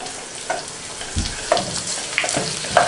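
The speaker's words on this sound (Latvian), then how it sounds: "Apcepsim sīpoliņus." Onions frying in a pan with bacon for a potato and cottage cheese dish, a steady sizzle with a few sharper scrapes and clinks of stirring, fairly close.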